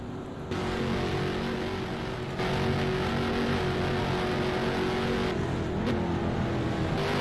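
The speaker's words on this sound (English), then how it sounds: "Slow down your car, Shive, you jump the start" RC race cars driving on a track, giving a continuous buzzing whine of small motors that rises and shifts as they race, steady and fairly loud with no talk.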